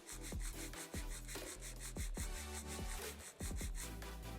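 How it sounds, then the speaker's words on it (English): A nail file worked straight out from the nail groove of a long acrylic nail, giving close, rhythmic back-and-forth rasping strokes in quick succession with no voices. "File straight out from the nail groove."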